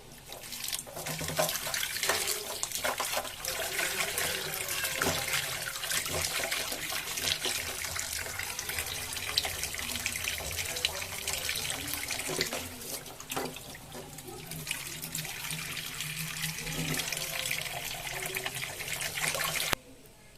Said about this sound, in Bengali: এখন মাছগুলোকে ভালো করে ধুয়ে নেব